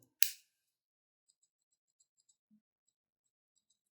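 Spring-loaded scissors on a Leatherman Wave+ multitool give one sharp, loud snip near the start, then a few faint, sparse ticks and clicks in a quiet room.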